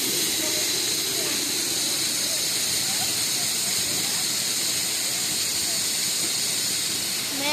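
Steady, loud broadband roar of a waterfall heard up close outdoors, constant rushing water with no breaks, filling the whole clip.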